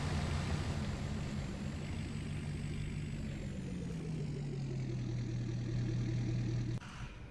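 A truck engine idles steadily in Farming Simulator 19, a low, continuous drone with a slowly falling pitch, then cuts off abruptly near the end, leaving a quieter background hum.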